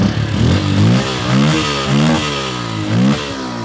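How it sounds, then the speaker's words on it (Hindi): A modified Bajaj Pulsar N160 motorcycle revs repeatedly in rising and falling bursts, loud and close, its exhaust note climbing and dropping about four times. "ये एग्जॉस्ट का साउंड सुनाता हूँ मैं आपको,"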